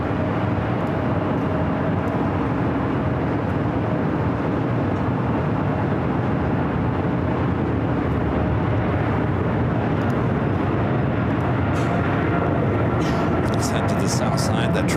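Boeing 777 freighter taking off at LAX, a loud sustained engine roar filling the whole stretch without letup, with faint clicks near the end.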